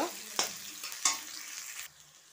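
Ingredients frying toward reddish-brown for a goat meat curry with jackfruit seeds: a quiet sizzle with a couple of sharp stirring scrapes, then the sound drops off abruptly.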